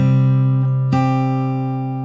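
The first two guitar strings plucked together ring out in a clear sustained chord, followed by a second pluck that decays slowly.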